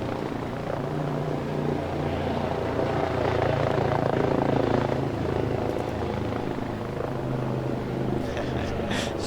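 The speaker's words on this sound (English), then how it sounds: "we've actually got a chopper drop coming in right now also" A video game helicopter's steady rotor drone fills the whole stretch, loud and continuous, with faint voices mixed underneath.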